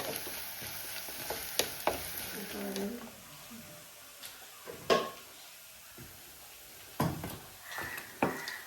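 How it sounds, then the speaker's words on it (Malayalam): Onions frying in a pan, a low sizzle under a voice talking, broken by several sharp spoon-and-pan clicks of stirring. "അപ്പോൾ നമ്മൾ ഉള്ളി മൂത്തിട്ടുണ്ട് കേട്ടോ"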